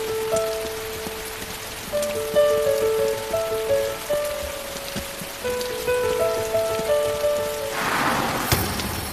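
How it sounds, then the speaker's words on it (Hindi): Rain falls steadily on a surface in a drama scene, a continuous patter mixed under a sustained melodic music score, swelling into a brief louder rush near the end. "जल्दी चलो, बारिश हो रही है।"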